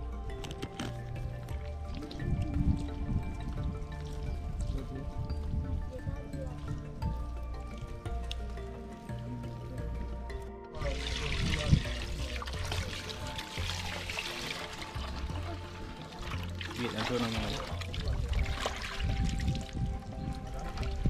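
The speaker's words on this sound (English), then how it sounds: "I'm going to prepare a tripe and wash it" Water running and splashing while goat tripe is washed outdoors: faint trickling and pouring with a louder gush of splashing midway, under background noise and tones.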